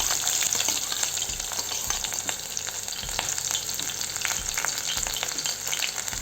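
Mustard seeds, cumin and chopped onions fry in hot oil with a loud, constant crackling sizzle, dotted with frequent sharp pops and spatula scrapes, heard up close.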